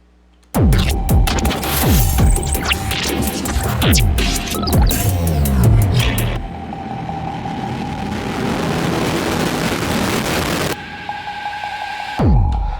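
A dense, distorted synthesizer pad drones loudly, throbbing and buzzing with noisy grit, its texture shifting midway before cutting off abruptly near the end.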